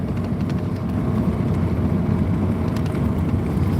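Steady low rumble of a car driving along a road, continuous engine and tire noise from inside the vehicle with no pauses.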